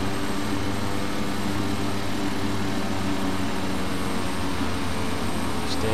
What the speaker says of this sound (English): Engine 2 ignition on